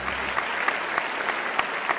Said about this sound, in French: Mesdames et messieurs, je vous demande d'accueillir sous vos applaudissements la présidente de notre jury 2013